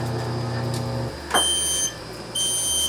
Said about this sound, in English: our working smoke alarms are going off that we have here in our safety trailer